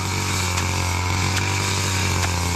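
Petrol grass cutter trimming thick weeds along the edge of a rice field, a steady loud engine whine droning without pause, with a few faint clicks.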